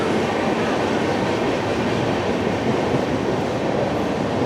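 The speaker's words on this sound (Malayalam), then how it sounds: "ട്രെയിനുകൾ ഇങ്ങനെ പോയിക്കൊണ്ടിരിക്കും" A train rolls past near Bharuch station on the Gandhidham–Tirunelveli Humsafar Express route, a steady, loud, broadband rumble and rush of wheels and carriages filling the scene without a break.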